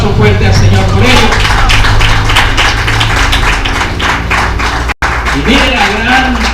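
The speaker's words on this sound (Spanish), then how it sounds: "Denle un aplauso fuerte al Señor por ello." A church congregation breaks into loud, sustained applause for the Lord, with thick continuous clapping and raised voices that carry on almost without pause, briefly cutting out near the end.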